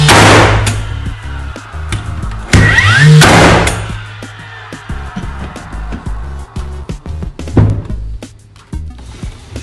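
A DeWalt DCN692 cordless nail gun fires nails one at a time in single-shot mode, giving loud, sharp close-up bangs, with two strong shots early and smaller impacts spaced through the rest.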